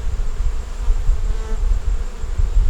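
Honey bees buzzing over a frame from a deep eight-frame hive box, a dense, steady, close hum of many insects with no talking over it.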